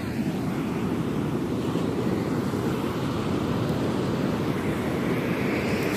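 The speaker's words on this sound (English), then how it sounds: "It looks like everybody's having a good time riding those waves in." Ocean surf rolls and breaks continuously at a surfing spot in Paia, Maui, a steady loud wash of waves mixed with wind rumble on the microphone, with no voices.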